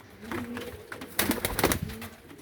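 Pigeons of the Teddy, Ferozpuri and Kasuri breeds cooing in a loft, low soft coos building into a busier burst of sound midway, fairly close.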